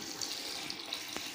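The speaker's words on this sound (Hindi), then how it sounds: "देखिए दोस्तों, पानी निकल रहा है इससे।" Water pours steadily from a small automatic irrigation pump setup, a continuous splashing stream with a brief soft knock near the end.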